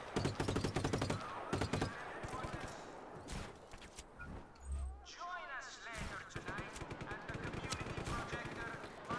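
Video game gunfire in Just Cause 3 rattles out in rapid automatic bursts, loud and close at the start and again later, with scattered single shots and a low thump between, under faint in-game voices.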